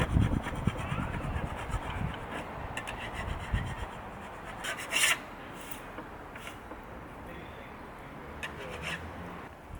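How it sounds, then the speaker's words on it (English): A scraper rasps across teak wood, scraping off tape from a desk, in continuous rough strokes, loud and close, for several seconds, then gets lighter with a few brief scratchy bursts. "I'm just taking a scraper just like this, and I'm just going to scrape off"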